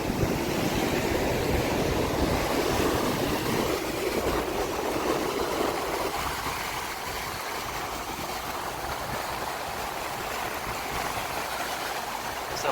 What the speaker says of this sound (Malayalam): അത്യാവശ്യം നല്ല കാറ്റുണ്ട്